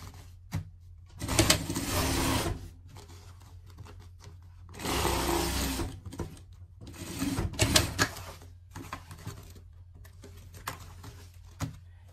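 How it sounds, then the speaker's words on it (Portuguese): A sewing machine stitches a seam down the middle of a pet car seat, running in three loud bursts separated by pauses with quieter mechanical clicks and handling noise between them. "No meio aqui, ó, a gente vai passar uma costura"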